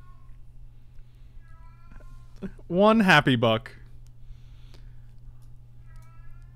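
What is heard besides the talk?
loud cat meowing in the room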